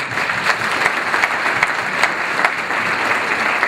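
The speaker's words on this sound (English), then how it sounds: "Could we give him a big round of applause?" A room full of attendees at a chamber of commerce breakfast claps for a casino CEO, dense sustained applause, loud and close throughout, with no voices over it.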